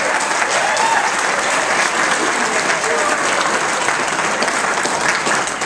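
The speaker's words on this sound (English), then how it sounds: "How about a round of applause?" Steady, full applause from a sizable group of wedding guests, loud and even from start to finish.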